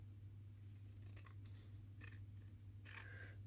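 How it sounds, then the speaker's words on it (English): Paper is snipped with scissors in a few short, crisp cuts, quiet and close, over a faint steady electrical hum. "I'm just going to cut this off."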